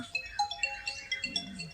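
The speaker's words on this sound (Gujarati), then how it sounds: "ચાલો બોલ ફોન આવ્યો" A phone ringtone plays a bright, repeating electronic melody of short tonal notes, steady and fairly close, with no talking over it.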